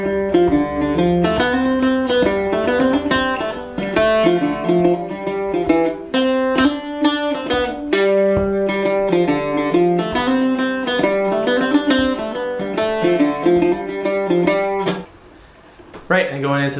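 Octave mandolin plays the A section of the tune Vasen, a steady run of plucked melodic notes with ringing strings, clear and close, before the playing stops near the end.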